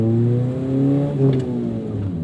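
Proton Satria with a 4G92 MIVEC engine pulling hard in second gear, its note climbing steadily in a rising rev sweep before dipping at a shift, loud and close with no talking.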